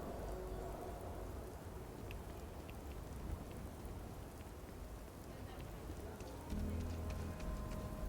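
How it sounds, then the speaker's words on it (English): Steady rain falls in the Starfield video game, a constant soft hiss of drops across the surface with faint crackles and no talking over it. "I think I know what it is about the Bethesda rain, and it's that the rain isn't falling fast enough."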